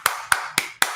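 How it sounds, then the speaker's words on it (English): Four sharp hand claps in an even, steady rhythm, close and distinct, with no other sound around them. "You're clapping."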